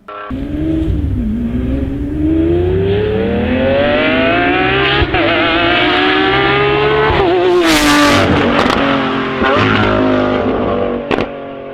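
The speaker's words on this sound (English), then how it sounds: "This is what a Lambo sounds like." A Lamborghini engine revs hard and climbs steadily in pitch as the car drives and accelerates, loud and close, with a sharp burst of extra noise partway through and a gear change near the end; no talking.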